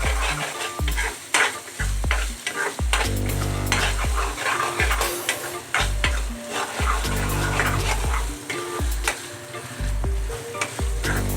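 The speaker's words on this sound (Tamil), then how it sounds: "இப்போ நம்ம நல்லா வதக்கிட்டே இருக்கிறோம்." Ginger garlic paste and a slit green chilli sautéing in a pan for chicken gravy, with steady close sizzling and frying plus repeated spoon stirring scrapes against the pan throughout, no talking.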